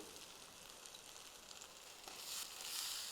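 Eggplant and potato pieces sizzling as they fry in a masala paste in a pan, a steady close hiss that swells louder near the end, with no talking.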